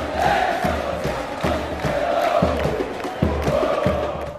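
Flamengo football supporters roaring and chanting as a dense crowd in a stadium, a continuous wall of massed voices with rhythmic pulses and swells throughout.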